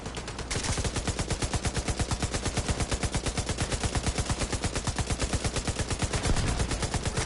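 Rapid automatic gunfire from fire-element bullets in a competitive PvP video game, a loud, steady stream of evenly spaced shots rattling on for several seconds with no pauses.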